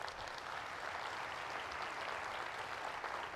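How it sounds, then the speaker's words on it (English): A round of applause rises from a franchising conference audience, an even, continuous patter of many hands at moderate distance with no speech over it. "can we give them a round of applause?"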